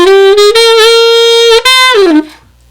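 A brass or saxophone jazz phrase is played with the doo-wah dip coming in too quickly, so it does not swing. It begins as one loud sustained tone with articulated breaks, then the pitch bends downward at the end.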